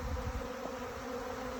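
A bee swarm buzzing steadily as it moves into an empty beehive on its own, a dense continuous hum with no voices.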